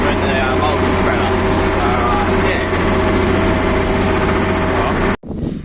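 A farm tractor hitched to a multi-spreader loaded with rock dust and fertiliser runs steadily at a near, loud, unbroken drone with a constant hum, then cuts off abruptly near the end.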